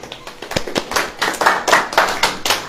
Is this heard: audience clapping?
yes